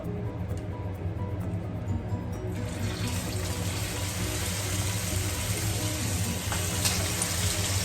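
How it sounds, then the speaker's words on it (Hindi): Sabudana vadas frying in hot oil over a medium gas flame, a steady loud hiss and bubbling sizzle that swells as the vadas go in and continues throughout. "तो चलिए तलना शुरू करते हैं बड़ों को।"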